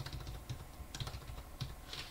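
Computer keyboard typing while writing game code, a steady patter of close key clicks with a few heavier strokes, no voices over it.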